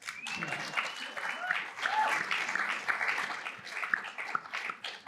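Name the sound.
audience applause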